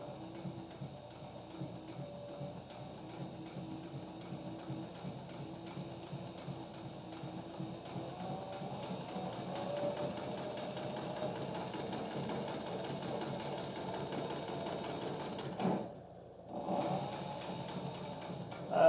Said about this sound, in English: This is a Cobra Class 18 sewing machine.